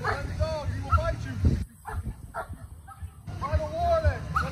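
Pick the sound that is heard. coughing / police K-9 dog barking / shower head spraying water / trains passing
police K-9 dog barking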